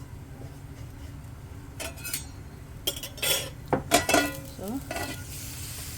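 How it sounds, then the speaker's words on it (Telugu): Tempering seeds spatter and sizzle in hot oil in a kadai as a spoon stirs and clinks against the metal, with bursts of crackling over a steady low fry and a brief spoken word. "పోపు గింజలు అయితే వేసుకుంటున్నాను."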